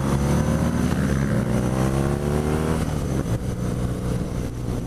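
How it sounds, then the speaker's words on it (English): A 2017 BMW R nineT Pure motorcycle engine runs close and loud, a steady throbbing rumble whose pitch shifts slightly as it revs, with no talking. "Sounds nice. The engine is just delicious."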